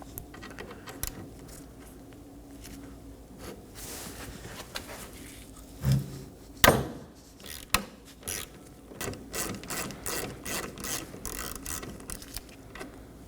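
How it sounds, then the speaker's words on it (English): Ratchet driving an E7 socket to remove a stud during A/C condenser replacement on a 2018-2024 Chevrolet Equinox, giving quiet clicking and mechanical rattles with a few louder clacks midway, close by and without speech. "I'm using a E7 socket to remove it."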